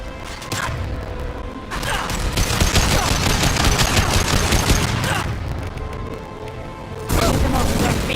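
Heavy gunfire from a high impact shot in Mass Effect 2, a dense, loud burst of shots and impacts sustained through most of the clip, with a short lull before another loud burst near the end.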